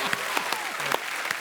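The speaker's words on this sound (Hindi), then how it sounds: "ठोको ठोको ठोको ताली। ठोको ताली।" A television comedy show audience claps in a brief burst of applause.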